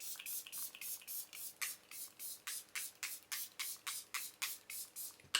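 Rapid repeated bursts of a matte hair spray misting onto hair, around fifteen short hissy pumps in steady rhythm, close up and quiet with no talking.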